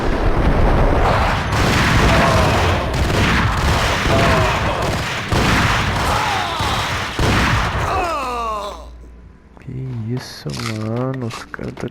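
Repeated heavy blasts and booming gunfire from a grenade fight in the shooter game Max Payne, loud and dense for about eight seconds, then dropping away while someone talks over quieter game sounds.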